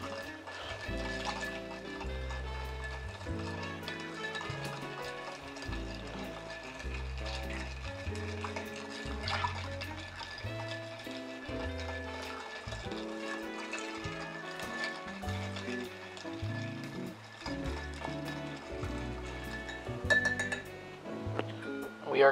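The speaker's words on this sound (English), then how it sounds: "All right, we are going to stir this. Twenty to 30 seconds." A cocktail is stirred in a glass, with ice clinking steadily for about twenty seconds while a person talks over the rhythmic tinkling.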